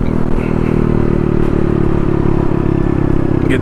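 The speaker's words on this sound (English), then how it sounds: "Get the engine moving a little bit." A Honda Navi scooter engine runs steadily and loudly throughout, with a rough mechanical clatter and constant low drone while riding along.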